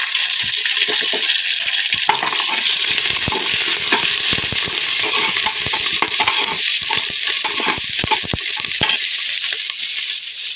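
Cumin, mustard seeds, tomato and turmeric hit hot oil in a frying pan, giving a loud, steady sizzle with crackling pops and stirring scrapes throughout, and no talking.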